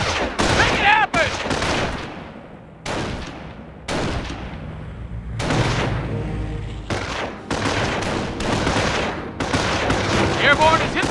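Squad gunfire aimed at an anti-aircraft gun in the Company of Heroes mobile game set in the Normandy invasion, loud sustained bursts of rifle and machine-gun fire with booms, broken by short gaps and mixed with voices.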